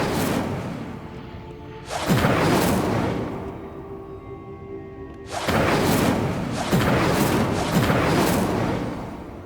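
The Incendio fire spell is cast in Hogwarts Legacy. It makes loud whooshing bursts of flame with deep thumps: one surge, a pause, then a longer run of three or four close, roaring waves.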